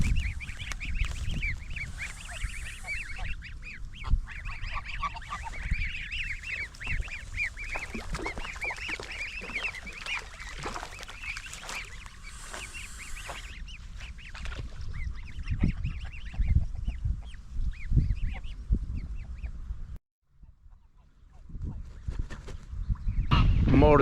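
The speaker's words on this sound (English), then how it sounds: "More ducks here, as you can see." Ducks honking repeatedly in a noisy outdoor scene in Arta, Greece, calls overlapping with steady background commotion, briefly dropping out near the end.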